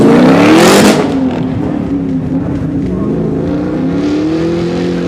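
A Ford Sierra fitted with a Lexus LS 400 V8 roars past at a retro car show, a loud, deep engine note that peaks close by then settles into a steady rumbling drone as it moves on.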